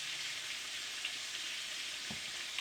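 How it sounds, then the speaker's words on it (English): Steady, dense sizzling of oyster mushrooms frying in hot oil, a constant crackling hiss with a few brief pops, fairly close. "We ain't all out here frying chicken, you understand? We frying oyster mushrooms."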